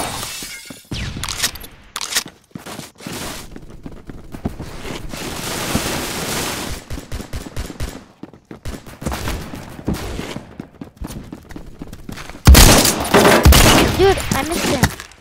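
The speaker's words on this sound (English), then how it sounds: "I really want to get the M60, like it's a big machine gun." M60 heavy machine gun fire in the Phantom Forces shooter game, coming in loud bursts and rapid volleys with brief pauses between them, ending in an especially harsh, dense stretch.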